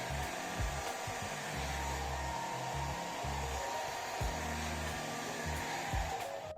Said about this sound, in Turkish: Öncelikle saçınızda kesilmiş saçları temizlediğimizden emin olun ve saçınızı kurutun.